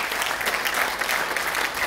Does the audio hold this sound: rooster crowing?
no